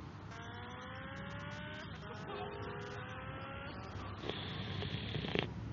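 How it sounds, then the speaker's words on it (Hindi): A motorbike in GTA Vice City revs hard at high speed, its steady engine drone rising in pitch along the road, with a brief squeal near the end. "ओहो वाह जी वाह, क्या बाइक चला रहा हूँ यार मैं एकदम"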